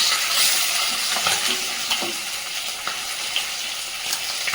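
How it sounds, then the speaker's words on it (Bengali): Fish frying in a pan of oil, a steady broadband sizzle running throughout with occasional faint clinks and stirring sounds, fairly close and even in loudness. "এদিকে মাছটাও ভাজা হয়ে গেছে"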